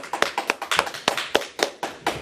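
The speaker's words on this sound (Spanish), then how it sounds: "démosle un aplauso al Señor" Congregation clapping at a Wednesday Bible study church service, close, distinct hand claps in a fairly rhythmic pattern, several per second, crisp and loud with no talking.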